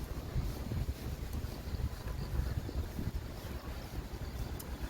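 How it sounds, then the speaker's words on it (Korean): Typhoon wind blows hard outdoors, a continuous low rumbling buffet of gusts battering the microphone at a fairly even strength; no voices. "풍속은 그렇게 높진 않다고 하더라도 바람 자체가 파워풀한 그런 느낌"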